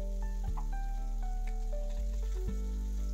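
Ginger and green chillies fry in a pan while being stirred, giving a steady sizzle broken by a few sharp clatters of the spoon against the pan.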